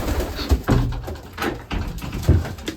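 Racing pigeons kept in a loft give repeated soft throaty coos at uneven intervals, close by, mixed with light fluttering and shuffling noises.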